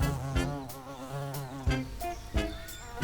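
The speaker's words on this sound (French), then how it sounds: "le xylocope." A carpenter bee hums with a deep, loud, steady drone, its pitch wavering as it moves, broken by a few sharp knocks and bumps.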